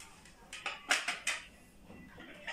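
Ceramic serving plates from a six-piece dowry set are handled: a cluster of sharp clinks and knocks in the first half, then softer taps, close by with no talking.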